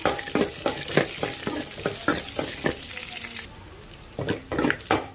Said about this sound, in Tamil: அடுப்பை லோ ஃப்ளேமில் வச்சுக்கிட்டு ஒரு ரெண்டு நிமிஷம் நல்லா வதக்கி எடுத்துக்கலாம்